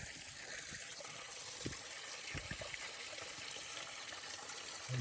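Water from a mountain creek on the Pacific Crest Trail in the San Jacinto Mountains trickles and gurgles while bottles fill, a faint steady flow with occasional soft splashes close by.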